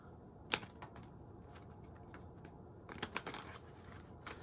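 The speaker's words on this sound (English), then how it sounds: "Sometimes I have a little more trouble shuffling this deck because I've had it for so long" A well-worn deck of cards being shuffled, with soft riffling bursts and flutters at the start and again near the end, quiet and close over a low room hiss.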